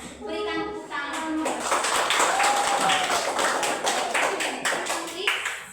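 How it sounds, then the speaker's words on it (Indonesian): Classroom of students applauding: a dense, continuous wash of clapping for several seconds, with a voice briefly heard at the start and the teacher's speech under the applause. "Oke, give applause to you friends. Berikan tepuk tangan."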